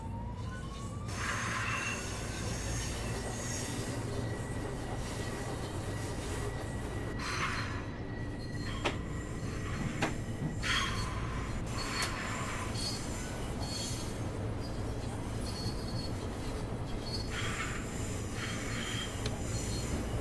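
A steady rumbling commuter train in a video game, LIRR route, running continuously, with a heavy low drone and occasional higher hisses and squeals, no talking.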